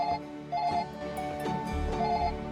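A telephone rings repeatedly in the Gabriel Knight: Sins of the Fathers adventure game, a bright repeating ring over game background sound, with no talk.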